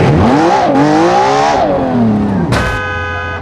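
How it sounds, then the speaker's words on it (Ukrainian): A Porsche 911 in the Gran Turismo video game revs loudly with rising and falling engine pitch over about two seconds, then a sharp burst as the car launches and settles into a steady, close engine drone. "І тільки послухайте, як він звучить. І стартує як ненормальний."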